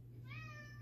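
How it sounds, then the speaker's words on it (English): A pet cat gives a single short, faint meow, heard alone over a low steady hum in a quiet indoor craft room. "That is my cat, Twilight."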